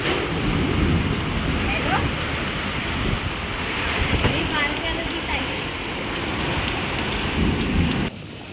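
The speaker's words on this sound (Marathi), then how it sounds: "सायंकाळी वादळी वाऱ्यासह अवकाळी पावसानं जोरदार हजेरी लावली आहे" Unseasonal heavy rain and a thunderstorm with strong wind in Ratnagiri: a dense, loud, steady roar of rainfall with low rumbling thunder underneath, continuing throughout before the level drops suddenly at the very end.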